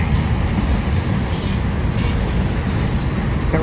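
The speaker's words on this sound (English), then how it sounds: "Night train." At night a train rumbles past nearby, a steady loud roar of rolling wheels and wind noise that carries through without any voices.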